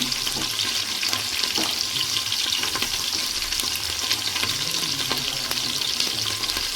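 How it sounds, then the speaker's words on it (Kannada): Onion frying in a pan for palak pulao gives a continuous, close sizzling hiss, steady in loudness, with occasional soft scrapes of stirring and no one speaking. "ಈಗ ನಾನು ಒಂದು ಈರುಳ್ಳಿ ಹಾಕ್ತಾಯಿದ್ದೀನಿ."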